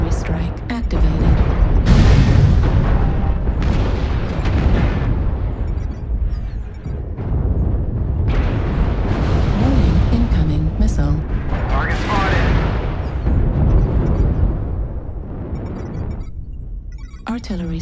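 Heavy artillery strike blasts rumble continuously in a video game battle, with repeated booming impacts and crackling debris layered under game voice callouts.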